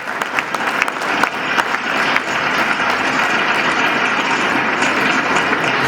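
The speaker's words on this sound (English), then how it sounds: "a big round of applause to all the kids and the proud parents" An audience at a Tamil school celebration applauds the children and their parents, dense continuous clapping that stays fairly loud and even from start to finish, with no speech over it.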